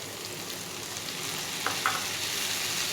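Okra (bhindi) with tomatoes frying in a pan for bhindi masala, a steady close sizzling hiss with a couple of brief stirring scrapes near the middle, no talking.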